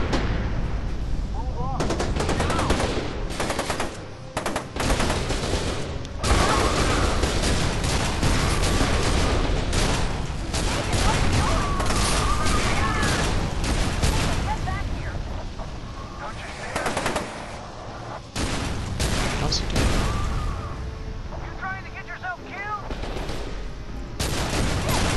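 Gunfire in the shooter game F.E.A.R. 2, with loud machine-gun bursts and repeated rapid shots that keep going almost without a break, with a voice now and then under the firing.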